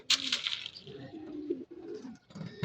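Racing pigeons coo softly and repeatedly at close range during feeding, low throaty murmurs with a brief flutter of higher sound at the start.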